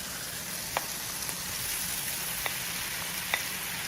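Tomato and onion pieces frying in a pan for Andhra-style ridge gourd chutney, a steady, gentle hiss of sizzling with a few isolated pops, close but fairly quiet, and no talking.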